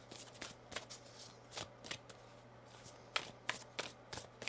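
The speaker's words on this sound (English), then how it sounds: "We're going to get one more shuffle on this for you." Tarot cards are shuffled by hand, a quick irregular run of crisp riffling and tapping bursts, close and fairly quiet.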